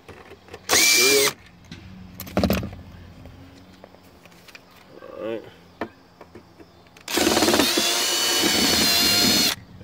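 A power drill whirs in short bursts while backing out Phillips screws holding the reverse light assembly on a 2000-2006 Chevy/GMC Suburban, with quieter clicks and handling noise between runs and a brief spoken word.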